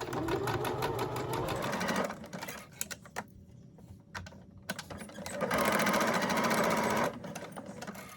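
A sewing machine stitches a small folded fabric piece for a face mask, running in fast rhythmic mechanical bursts close up, with a short pause and a few clicks before another steady run.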